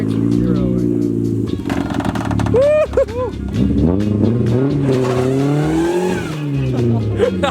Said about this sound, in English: He's gonna try to do a grass burnout.